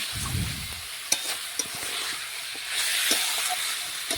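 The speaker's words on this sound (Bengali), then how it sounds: "দেখুন আমি মিশিয়ে আর একটু কষে নিচ্ছি" Chicken with potatoes, chopped tomato and ground spice paste is stirred and fried in a pan. A spatula scrapes and stirs at first, with a few sharp clinks, over a steady close sizzle.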